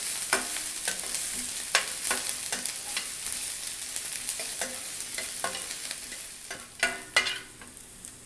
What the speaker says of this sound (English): I'll saute them till they are lightly brown.